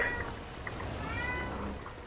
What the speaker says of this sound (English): one of my cats is going crazy again